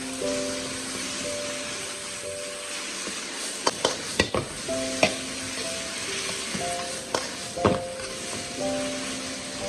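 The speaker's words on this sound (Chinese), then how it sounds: "然后把焯水的三丝给加进来，开大火快速的翻炒，防止它出水" Blanched vegetable shreds stir-fry in lard with garlic over high heat, a steady loud sizzle broken by sharp spatula clacks against the wok and a whirring hood fan in the background.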